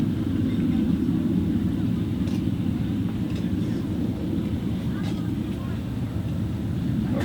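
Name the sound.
jet airplane flying overhead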